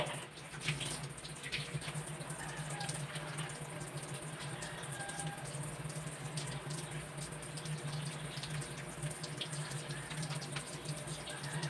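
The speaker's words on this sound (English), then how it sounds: "I am going to perform thorough hand washing" Steady running water from a tap as hands are washed before a perineal flushing procedure, a constant hiss that continues alone and without a break throughout.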